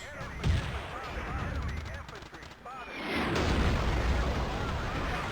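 In a Battlefield match, an artillery strike lands amid rattling gunfire. A burst of shots gives way to a swelling, rumbling barrage of blasts, with a commentator talking over the action.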